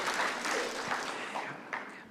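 An awards ceremony audience gives a fairly soft round of applause, a steady wash of clapping from a distance with a few sharper claps standing out near the end.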